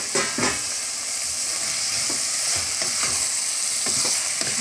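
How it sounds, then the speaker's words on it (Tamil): Tomatoes being stirred and sautéed in a hot pan for mushroom biryani, a steady broad sizzle with repeated scraping strokes of a spoon, close and continuous throughout. "ஒரு கிளறிட்டு தக்காளி பழத்தை சேர்த்துருங்க"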